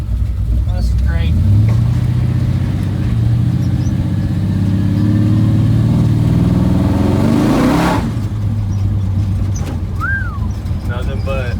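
A big block drag street car engine revving hard on the road, a loud, close rising roar that climbs in pitch then cuts off sharply, followed by lower idling, with people talking around it.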